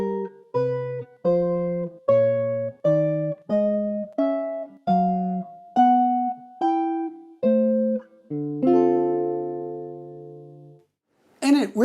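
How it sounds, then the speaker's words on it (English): Guitar playing only the bass line and top note of Ravel-style chords in a jazz setting, heard as a steady series of about a dozen plucked two-note dyads, one roughly each second, ending on a longer held chord. "So if I were to adapt it to play on guitar, just these two lines, the bass and top note,"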